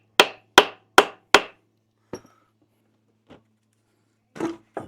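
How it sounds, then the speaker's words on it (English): Hammer tapping through a small piece of wood on the valve cover of a Toyota 1GR-FE 4.0L V6: four quick, evenly spaced sharp knocks, then a few scattered lighter taps amid quiet. "A little piece of wood, give it a little love tap, love tap, love tap."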